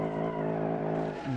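A car drifts in the BeamNG driving game, its tires skidding with a steady, loud, high squeal layered over engine drone. The pitch wavers and drops near the end of the slide.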